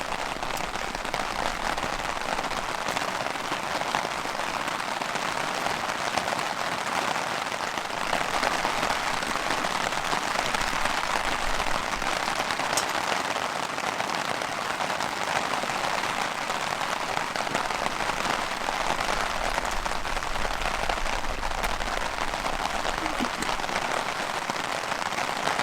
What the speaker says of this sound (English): I don't know if you can hear the rain splashing down here.